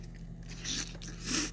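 A person biting into and chewing a wet burrito, a few soft close-up bites and moist chews, quiet and brief with no talk.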